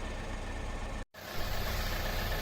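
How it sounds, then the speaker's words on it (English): A BMW 1 Series F20 114i engine idles with a steady, low continuous rumble, broken by a very brief dropout of near silence partway through. "I'm having the engine running because I actually have to go somewhere soon."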